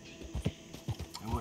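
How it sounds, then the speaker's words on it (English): Horse hooves clip-clop in the Red Dead Redemption 2 video game: a few uneven, close, dull thuds over about a second and a half, fairly quiet, with no clear whinny. "Got a horse right here."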